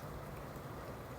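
Steady rain falls outside a window, a soft, even hiss of drops with no breaks, fairly quiet and continuous.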